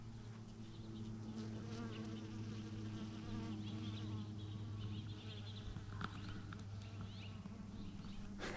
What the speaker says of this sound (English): Tons of bees around it right now.